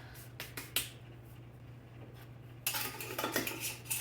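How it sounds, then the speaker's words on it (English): Dried whole thyme leaves crushed by hand, a few faint dry crackles early on, then a denser stretch of crisp rustling and crumbling close by, with no talking. "I'm just taking a second to crush those up before adding them to my meat"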